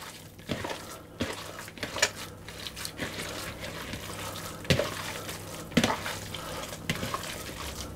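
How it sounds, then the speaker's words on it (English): Hand mixing 3 tablespoons of beef stock into a Forfar bridie filling, giving soft wet squelching and stirring sounds in irregular bursts, quiet and close, with no talking. "I'm simply going to use the hand and thoroughly mix all of that together"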